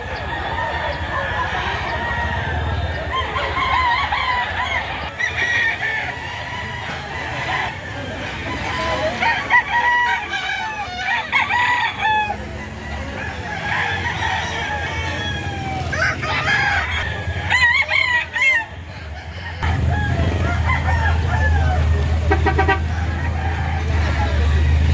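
Roosters crow repeatedly at a busy chicken market in Lipa City, Batangas, with hens clucking, background chatter and passing traffic; people talk throughout, and the crowing rises loud and near in several bursts.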